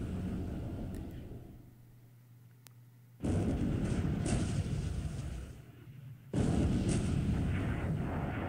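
Naval battleship shell fire in the World War II strategy game War in the Pacific, two heavy booming blasts with rolling rumble, each followed by a decaying roar, loud and close with no talk.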